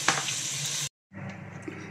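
Chicken for tinola frying in a pan, a bright steady sizzle that cuts out briefly and then resumes at a slightly lower level, with no talk.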